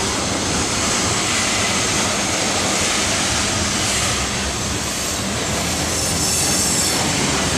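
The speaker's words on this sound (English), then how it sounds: "A rather long coal drag there." A long coal freight train rumbles past close by, a continuous heavy roar of wheels on rails with faint squealing, no voices.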